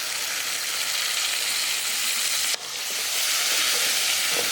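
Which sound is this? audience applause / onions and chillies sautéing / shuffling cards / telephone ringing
onions and chillies sautéing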